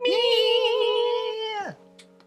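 A drawn-out meow from a pet cat in a home kitchen by the fridge, loud and close, holding steady for about a second and a half before dropping sharply, followed by brief quiet.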